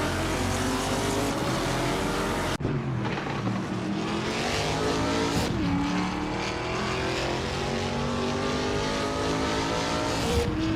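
Race cars roar through a racing video game, engines droning loud and continuous with rising and falling revs and a sharp shift around the third second, no talk.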